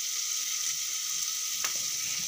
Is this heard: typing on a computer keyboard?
no